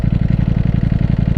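A Ducati V4 Panigale motorcycle under throttle while riding, a loud, steady pulsing engine drone with a rapid even beat, close and continuous throughout.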